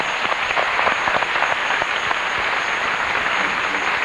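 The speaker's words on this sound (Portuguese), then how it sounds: "Pode bater palmas." A TV reality-show studio audience claps after a comedy segment, a steady, fairly close patter of many hands sustained evenly for about four seconds.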